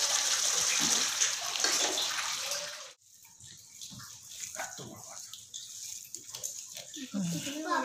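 Water splashes and hisses steadily for about three seconds as it is poured into a pan of chicken curry, then stops, followed by quieter kitchen clatter and talking.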